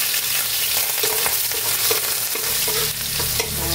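Garlic sautéing in plenty of oil for a vegetable dish, a steady close sizzle with stirring scrapes and clinks of a utensil against the pan throughout, no voices.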